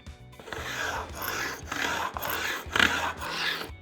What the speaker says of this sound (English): Since I did file down these edges over here, I'm gonna do the same thing right over here.